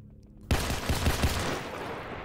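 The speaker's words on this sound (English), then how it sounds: "You're unloading your gun into my ear" Video game gunfire bursts out suddenly after a quiet moment: several rapid, punchy shots close together, followed by a loud noisy wash that slowly tails off.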